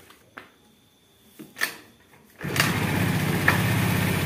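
A Honda Vario 110 scooter is kick-started: a few sharp mechanical clicks and knocks, then the engine catches and settles into a steady, close idle hum.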